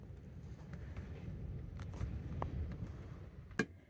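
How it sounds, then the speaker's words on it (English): Steady low rumbling wind noise from an approaching storm buffets the microphone throughout, with a few faint clicks and rustles on top. "The wind picked up."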